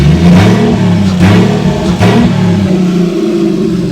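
Modified off-road Nissan 240SX engine revving hard through three quick throttle blips, each rising and falling pitch swell close and loud, then settling into a rough, steady idle.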